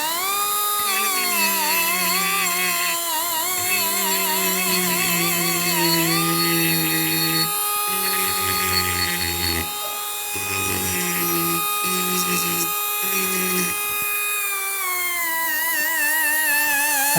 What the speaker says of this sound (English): Try and get it as flat, the sander as flat to the pieces as you can.